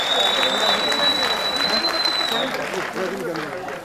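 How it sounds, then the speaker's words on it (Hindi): Hearty clapping from an audience welcoming guests at a Haryanvi comedy event, steady and fairly loud, fading slightly toward the end with a faint crowd murmur underneath. "एक बार जोरदार तालियों से उनका भी स्वागत करें।"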